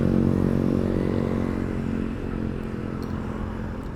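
A motorcycle rides in the slow lane of a road in Solo, Indonesia, its engine droning steadily and loudly at first before easing off slightly.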